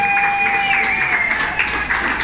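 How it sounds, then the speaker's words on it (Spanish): A crowd applauds steadily at a children's entertainment event, the clapping dense and continuous under a faint sustained tone, with no talk over it. "Un gran aplauso a ella."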